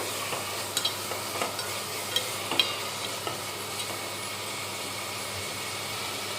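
Cumin, garlic and ginger paste frying in a pan, a continuous soft sizzle with a few sharp clicks and scrapes of stirring, fairly quiet and without speech.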